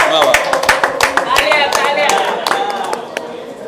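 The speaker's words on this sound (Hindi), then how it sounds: "सबसे पहले बॉलीवुड अड्डा दलवंदर के लिए एक बार तालियां हो जाए।" An audience at the Netaji Subhash Chandra Bose Noble Peace Award event claps, with sharp individual hand claps standing out over scattered applause and a voice talking over it.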